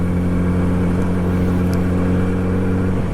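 A new 2023 Kawasaki Z900RS motorcycle with fuel injection runs with a loud, steady engine drone and strong low harmonics that hold almost evenly for about three seconds, with no talking.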